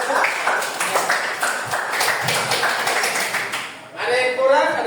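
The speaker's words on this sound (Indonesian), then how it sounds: "Tepuk tangan untuk kelompok 1" A seventh-grade junior high classroom claps for group 1 after its presentation: a steady patter of many hands that runs for several seconds, then stops as a voice starts talking.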